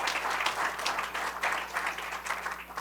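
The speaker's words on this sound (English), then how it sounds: "You may applaud here." Applause from a symposium audience in a hall: sustained crowd clapping at moderate volume, steady and textured with a slight rise and fall, heard without speech.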